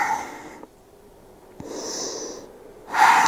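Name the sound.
heavy breathing while catching breath during yoga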